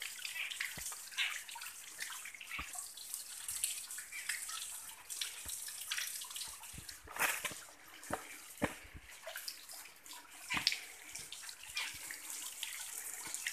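Waterfall at a hillside shrine in Chitrakoot, India, giving a steady broad rush of falling water with scattered splashy drips and spatters, fairly close and continuous, with no voices.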